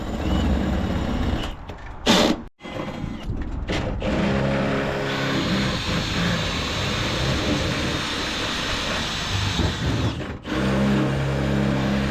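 A steady, high-pitched electric drill whirs continuously, with a couple of brief pauses where it stops and restarts, drilling three holes with an 11mm bit on a Renault truck roof.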